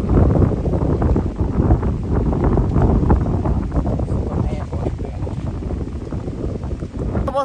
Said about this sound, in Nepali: हावाहुरी चल्यो साथीहरू, हावाहुरी चल्यो।